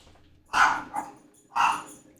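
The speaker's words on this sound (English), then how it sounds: "in the background you may be hearing my mother's dog going off on a family member" A pet dog barks in the background of a home, two bursts of sharp barking about a second apart with a smaller yip between, fairly loud and alone.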